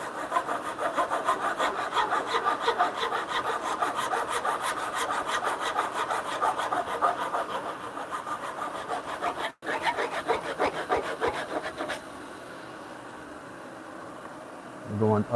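Woodworking tool shaping a curved bunk bed rail, a steady rhythmic rasping scrape repeating rapidly for most of the clip, fairly close, then thinning to a quieter hiss near the end.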